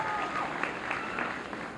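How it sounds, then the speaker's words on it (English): An auditorium crowd at a 1993 high school senior assembly claps steadily in a dense, continuous wash of applause for teachers, parents and friends. "Ladies, please applaud your teachers,"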